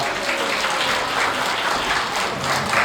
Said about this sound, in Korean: 모두 큰 박수 한번 부탁드리고 노래 시작하도록 하겠습니다